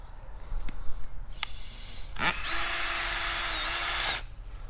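A Ryobi hammer drill runs outdoors: a couple of sharp clicks, then the motor spins up into a loud, steady whine for about two seconds before cutting off.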